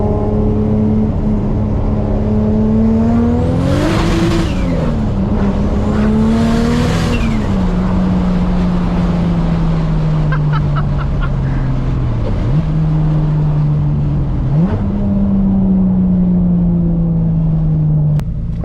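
A Mitsubishi Evo 8 with a massive turbo drives by, its engine note rising and falling through gear changes and revs, loud and close, with brief whooshing accelerations and steady cruising drone.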